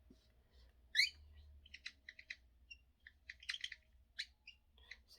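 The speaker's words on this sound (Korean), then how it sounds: "새소리 같네." Several short, thin chirps and whistled bird notes come in scattered bursts, fairly faint against a low background hum, with no one talking.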